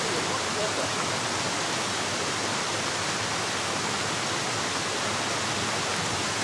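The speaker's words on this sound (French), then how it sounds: "Là, l'eau coule toujours dans la rigole." Water rushes steadily along a clay and straw channel outdoors in Chartreuse, Isère, making a loud, unbroken hiss and gush that fills the whole moment without pause.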